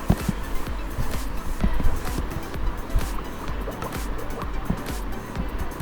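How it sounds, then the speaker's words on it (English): Bubbles sound effect from the Scratch programming tool's sound library, a busy bubbling, gurgling watery texture with quick popping bursts running steadily for several seconds, moderately loud and heard alone. "there's sound button, and this one is bubbles"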